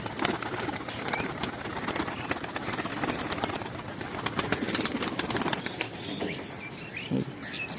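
Pigeons released on a rooftop beat their wings in repeated flurries of flapping, with occasional soft coos and chirps nearby, over constant outdoor background noise.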